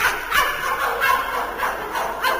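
A man imitates a dog barking on an old-time radio hypnosis show, giving four or five rough, evenly spaced yapping barks at close range.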